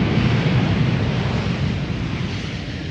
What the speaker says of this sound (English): And this was Aer Lingus flight 604 arriving from Dublin in Ireland.